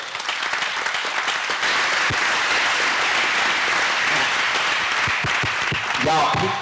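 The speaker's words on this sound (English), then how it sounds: "Vic, stand up and take a round of applause." An audience at a district budget town hall applauds loudly, with steady dense clapping throughout and a few voices rising near the end.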